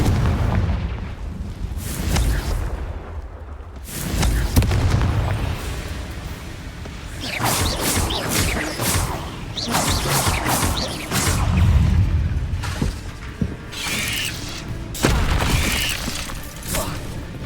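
Repeated spell blasts from Confringo casting in Hogwarts Legacy, with loud booming bursts and crackling impacts over a dense game soundscape across the whole stretch.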